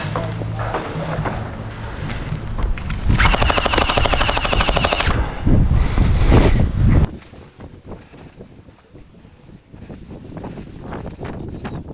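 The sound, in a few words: gel blaster firing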